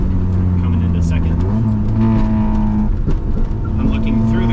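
Car engine during a heel-toe downshift into second gear, the revs blipping and shifting pitch as the gear changes, loud and close inside the cabin with a voice talking over it.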